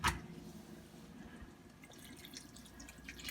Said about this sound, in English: And I'm gonna be adding a little bit of water.